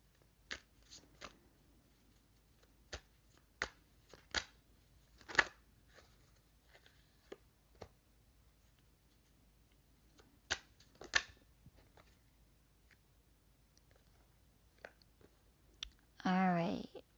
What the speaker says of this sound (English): I'm gonna pull out some more cards before I read that one.